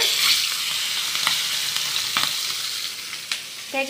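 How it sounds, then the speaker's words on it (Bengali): Fish sizzles steadily in a hot pan of oil, a close, even crackle with small bursts of spitting and faint clinks of a utensil. "তো এখন এগুলোকে ভেজে নিব"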